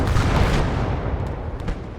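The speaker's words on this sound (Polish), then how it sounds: "Ole, tutaj eksplozja była, ładnie." Heavy low booms and rumbling blasts from the World War II strategy game Gates of Hell during urban multiplayer combat, a dense barrage of explosions and gunfire rolling through the whole stretch.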